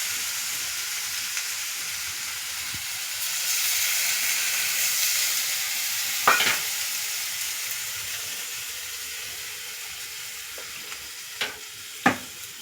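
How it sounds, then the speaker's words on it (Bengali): Spice masala frying in a pan with a little water added, stirred steadily: a continuous sizzle and steamy hiss with a few sharper scrapes and clinks of the spoon against the pan, close by, with no talking. "এই জলটা দিয়ে আবারও নাড়তে থাকবো, কারণ মশলাটা কষতে থাকবো"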